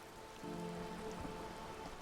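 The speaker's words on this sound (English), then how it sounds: "rain keeps falling down. On the wooden boards she's standing on, and on the water around you." Steady rain falling on wooden boards and surrounding water in the video game Disco Elysium, a continuous soft hiss with a faint low tonal drone underneath, no voices.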